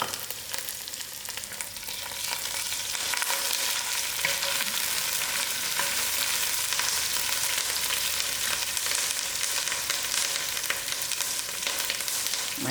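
Cinnamon stick, clove, thyme and curry leaf frying in hot oil in a pan, a steady, bright crackling sizzle that holds evenly throughout without any talking.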